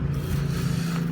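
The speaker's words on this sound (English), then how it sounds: "my neighbor behind me here decided he wanted to mow his lawn right now" A neighbor's lawn mower runs at a steady drone in the background, a continuous low engine hum with no voices over it.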